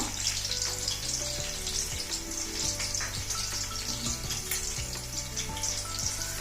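Chopped onions and a pinch of fenugreek seeds fry in a wide, shallow pan for fish pulusu, giving a steady close sizzle with occasional stirring scrapes and clinks throughout.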